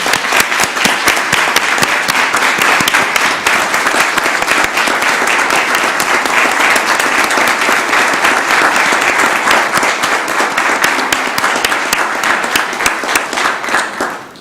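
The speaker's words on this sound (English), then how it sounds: "Let's give them a round of applause, everyone." Sustained, dense applause from an audience at a Columbus, Georgia city council meeting, steady and loud for about fourteen seconds before tapering off at the end, with no speech over it.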